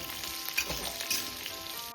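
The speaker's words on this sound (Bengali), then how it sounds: "আর তার সঙ্গে দিয়ে দিচ্ছি শিম। এটাকে আমি এবার প্রথমে একটু সামান্য একটু ভেজে নেব।" Flat beans (sheem) and potato pieces frying in oil in a pan, a steady close sizzle throughout with a couple of brief stirring scrapes, no voices.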